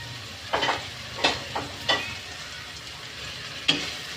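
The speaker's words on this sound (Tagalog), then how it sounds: "Mix natin yung carrots" Sliced carrots fry in a pan for a Filipino fish escabeche and are stirred in about five sharp scraping strokes over a soft, steady sizzle, close and clear with no talking.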